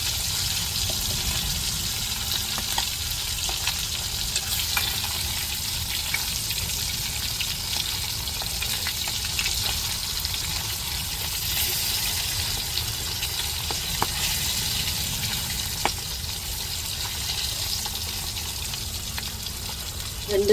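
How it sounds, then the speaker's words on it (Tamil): Fish frying in oil, a continuous hissing sizzle lasting throughout with faint scattered crackles as the fish is turned, no voices. "இப்போ மீன் அப்படியே திரட்டி விடுவோம்."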